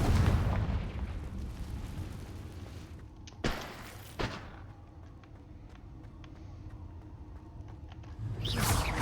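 The Confringo fire spell in Hogwarts Legacy goes off as booming explosive blasts mixed with combat effects, a loud burst at the start, two sharp impacts in the middle and another rumbling blast at the end.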